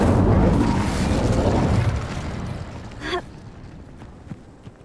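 The Incendio fire spell cast in Hogwarts Legacy, a loud, close burst of rushing flame that fades over a few seconds, then a short whoosh and a few small pops.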